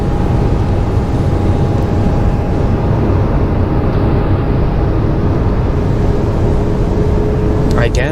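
A passenger airplane descends toward a landing in a mountain valley, its cabin filled with a loud, constant engine roar and rumble plus a steady tonal hum, with a faint voice underneath.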